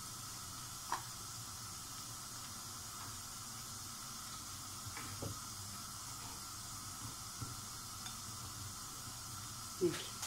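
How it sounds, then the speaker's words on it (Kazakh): Meat frying in a kazan for Kazakh plov gives a steady, quiet sizzling hiss that continues without a break, with a few faint clinks and taps over it. "Өздеріңіз көріп тұрғандай етіміз қуырылып жатыр."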